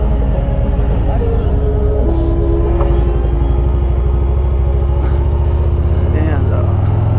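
A Harley-Davidson Road Glide rumbles along at riding speed, its deep engine note shifting as the rider changes gears, with wind noise and a voice speaking over the steady motor.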